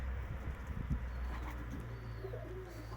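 Polish Mewka pigeons, including a male, coo in low, rolling murmurs over a steady hum of loft background noise, with soft repeated calls and no talking.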